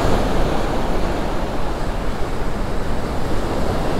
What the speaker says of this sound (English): The surf is still up.